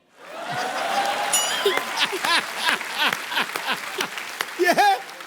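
Studio audience applause on The Kapil Sharma Show, Indian comedy, building quickly into steady, fairly loud clapping with laughter and voices mixed in throughout.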